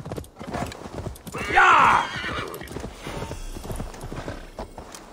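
A horse in Assassin's Creed Valhalla gallops with steady clip-clop hoofbeats and lets out a loud whinny partway through, with game ambience beneath.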